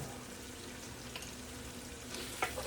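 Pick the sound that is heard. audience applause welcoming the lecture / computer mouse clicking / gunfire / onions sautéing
onions sautéing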